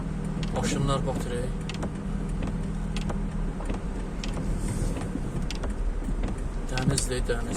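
A car pushes through deep flood water on a street during a downpour, with a steady churning rush and engine hum throughout, while people talk over it.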